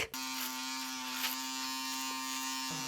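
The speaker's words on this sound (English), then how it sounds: "I get him the best electric face shaver around" An electric face shaver with dual blades, a foil blade and a long hair leveler, buzzes loudly and steadily up close. It switches on abruptly at the start and holds an even tone throughout, with no talking.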